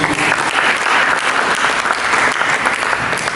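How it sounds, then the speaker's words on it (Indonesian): A church congregation during a sermon breaks into loud, continuous applause, a thick, even roar of many hands clapping close by for the whole moment. "Berikan tepuk tangan juga"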